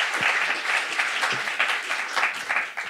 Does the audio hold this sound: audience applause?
yes